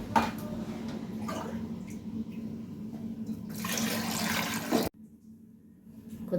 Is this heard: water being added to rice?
yes